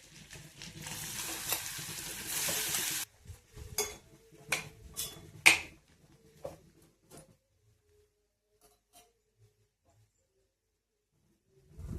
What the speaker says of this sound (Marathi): गॅस थोडा बारीक करून घेऊया। मॅरिनेट केलेलं पनीर घालूया।